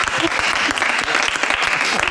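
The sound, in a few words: festival crowd applause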